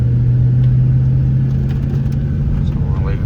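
A truck driving in tow haul mode gives a steady low engine rumble and road drone from inside the cab, loud and continuous, with a faint voice underneath.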